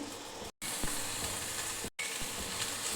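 Chicken pieces frying with onion in a pan, a steady close sizzle with small crackles and occasional stirring scrapes, broken by two very short gaps of silence.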